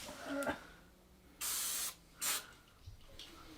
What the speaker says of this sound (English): I sprayed a little bit of silicone spray on there